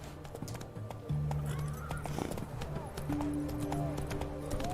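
Roach, a horse in The Witcher 3, whinnies and neighs several times over a steady clip-clop of hooves, set against game ambience and a low background hum.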